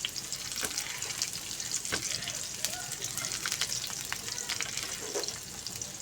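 Onion fries gently in a pan for a green chilli garlic chutney, giving a soft, steady sizzle with scattered pops and crackles, quiet and close throughout.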